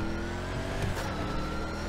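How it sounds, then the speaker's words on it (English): Supercharged V8 car engine mod in the GTA V video game revving steadily at close range, a dense continuous roar with a brief swell near the middle and no talk. "that V8 engine sound, sounds amazing"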